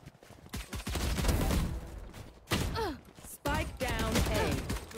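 Gunfire in the video game Valorant rattles out in rapid, loud bursts with brief gaps between them, while a player talks over parts of the shooting.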